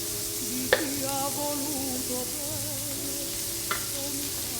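Beef and bolognese sauce with tomato, vegetables and mushrooms bubble and hiss in a skillet in a restaurant kitchen, a steady low sizzle under two sharp utensil clacks against the pan.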